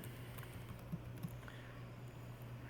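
Typing on a computer keyboard while entering a query, faint scattered key taps over a steady low hum, no talking.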